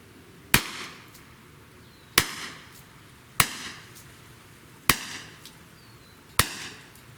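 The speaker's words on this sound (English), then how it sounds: "So let's just shoot like 5 rounds into the watermelon just to check the penetration." Five shots from a Beeman BP50 air pistol into a watermelon, each a sharp, loud crack with a brief ring, spaced evenly about a second and a half apart over quiet background.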